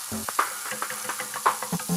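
Onions sizzle in a hot pan as they cook to translucent, a close, crackling fry with irregular stirring clatters and scrapes scattered across it, no voices.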